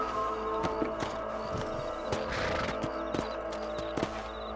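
Hooves clip-clop at a steady walking pace, a rhythmic clatter of hoofbeats over low background ambience.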